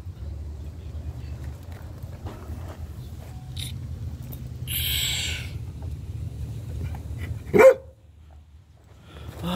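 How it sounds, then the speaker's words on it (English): A dog gives a single loud bark near the end, over steady low background rumble, with a brief hiss earlier, during termite fumigation work outdoors. "Dog."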